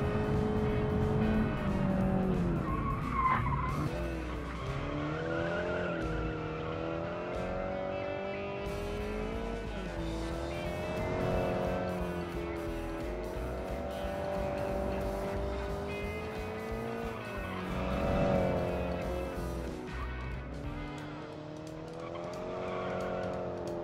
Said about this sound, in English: Here with this 4-cylinder engine it really is easy to drive.